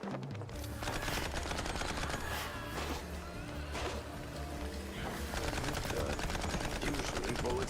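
Gunfire in the video game Mouse: P.I. for Hire, rapid loud bursts of repeated shots in quick succession, close and sustained across the whole stretch with scattered heavier hits.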